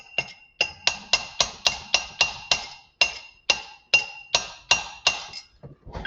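A hammer taps a bearing driver to seat a wheel bearing, giving a steady series of about fifteen bright metallic clinks at a regular rhythm, close and clear with no talking.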